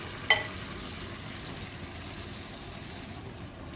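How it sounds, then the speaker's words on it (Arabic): Potato mixture dropped into hot oil sets off a steady, quiet frying crackle after a short sharp splash at the start, close and continuous with no talking. "كناخذ البطاطا كنعملوها في الخليط، كنهزوه بحال ما هذا الشكل، نوضعو مباشره في الزيت يكون ساخن"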